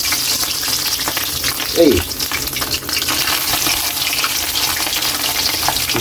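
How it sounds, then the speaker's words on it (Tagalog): Tinapa, smoked fish, frying in hot oil in a home kitchen: a loud, continuous crackling sizzle runs throughout, with a brief shouted exclamation partway through. "mainit na yung mantika natin. Ilagay na natin yung tinapa natin. Ma-fried muna natin"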